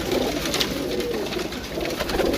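Pigeons sold at a market in Gujrat, Pakistan, cooing steadily, soft low throaty coos repeating in a close rolling rhythm against a noisy outdoor background.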